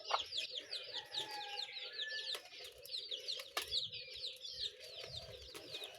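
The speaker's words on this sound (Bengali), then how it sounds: "মুরগিটাও বুঝে কি সুন্দর কিটকিট করে ডাক দিচ্ছে" A hen in a village yard clucks repeatedly to call her chicks to food, quick soft calls in a steady rhythm, joined by chirping chicks and a few faint knocks, moderately close.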